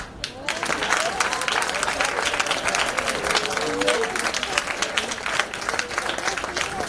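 A crowd at a live awards event claps for the top performers in a dense, sustained round of applause, with a voice speaking faintly underneath the clapping.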